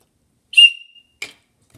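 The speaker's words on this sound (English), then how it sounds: "I have a survival whistle" A survival whistle gives one short, shrill, sharp blast that fades fast, then a brief faint rustle and a click follow close by, with nothing else in the background.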